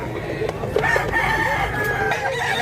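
A big-bodied, roughly eleven-month-old brass-black rooster crows close by, its loud harmonic call drawn out across the clip.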